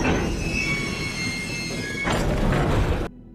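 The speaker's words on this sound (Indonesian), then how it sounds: "Tak lama kereta perlahan melambat." A train slows down with loud, close rumbling and sustained high-pitched wheel squeal, the noise swelling before it cuts off abruptly.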